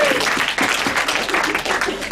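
A wedding crowd breaks into applause, a dense patter of many hands clapping at once, loud and sustained for a couple of seconds.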